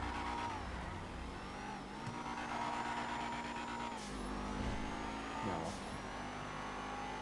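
An AI car called the Bullet in Monster Hunter Wilds drives past with a steady engine drone that rises and falls as it revs, plus a couple of brief whooshing swells, moderately loud with no talking.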